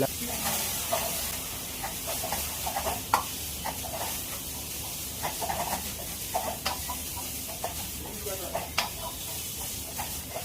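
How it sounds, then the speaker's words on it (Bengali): Vegetables roasting in a hot pan with black pepper, white pepper, salt and sugar, giving a steady sizzle and hiss broken by repeated scraping stirs, close and continuous, with some faint background voice. "একটু সবজিগুলো দিয়ে একটু করে রোস্ট করে নেবো"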